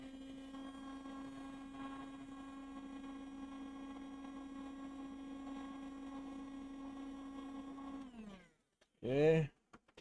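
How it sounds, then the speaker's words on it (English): A heat gun blows a steady, even whirring hum with a mains-like drone for about eight seconds while working on a guitar low-battery indicator wiring job, then cuts off into silence before a short loud clunk. "Get the heat gun back out."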